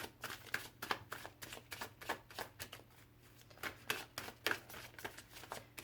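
Tarot cards riffle and slap in a quick, uneven series of crisp bursts, close and fairly quiet, as they are shuffled and laid down over a low steady hum.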